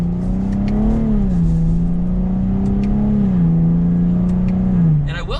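2023 Chevrolet Camaro V6 convertible with stock exhaust accelerating in sport mode, a steady loud engine drone rising and dipping with gear changes, heard close from inside the car.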